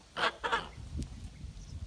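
A large black female Kholmogory goose gives two loud, close honks in quick succession, followed by quieter low rustling and faint sounds.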